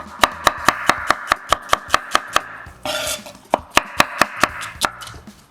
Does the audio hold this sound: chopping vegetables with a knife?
yes